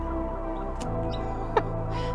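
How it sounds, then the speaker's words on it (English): Birds outdoors give a few brief clucks and chirps, scattered and moderately close, over a steady low background hum with no talking. "Hello, birds. Quite a few of them now."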